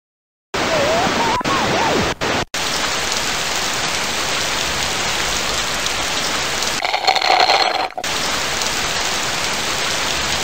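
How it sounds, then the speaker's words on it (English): Heavy rain from Sammy's Science House, an educational computer game, pours as a dense, steady hiss at a loud, even level, with a brief brighter tonal patch partway through. "Today is hot with heavy rain and no wind."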